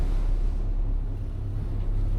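A Marex 390 small yacht idles along at low speed off the south of France, a quiet, steady low engine rumble mixed with wind and water noise, with no voices.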